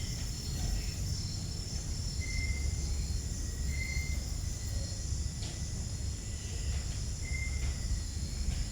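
Faint, continuous high-pitched cricket chirping over a rumbling background, with sounds of corrugated metal sheeting and a few brief bird-like calls scattered throughout.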